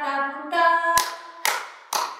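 Three sharp handclaps land at a steady beat after a sung note in a children's music class song, each clap crisp and close.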